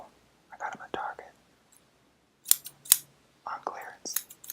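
Cheap clearance-store scissors handled up close in a whispered ASMR setting, giving crisp metallic snips and clicks between soft whispering.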